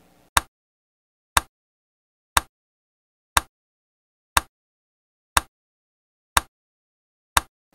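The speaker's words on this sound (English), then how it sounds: "A metronome is a musical device that is used to keep time in music." A metronome ticks eight times at a steady one-per-second pace, each click sharp and close with silence between.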